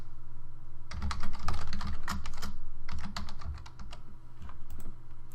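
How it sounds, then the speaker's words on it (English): Computer keyboard keys clatter in quick, irregular bursts as code is typed for a web development page, close and fairly loud over a steady low hum, with no voices. "as I type in the code"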